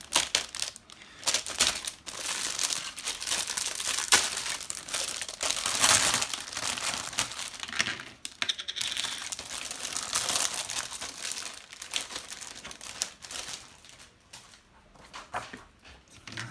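Plastic wrapping crinkles and crackles as an issue of the Warhammer Stormbringer comic is unwrapped close up, in a long run of irregular rustles with brief pauses and no talking.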